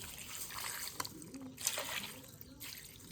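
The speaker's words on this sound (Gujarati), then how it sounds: "આમાં પાણી એડ કરી નાખીએ" Water pours into a chikoo (sapodilla) juice mixture before blending, a steady, splashy rush of liquid heard up close, no voices.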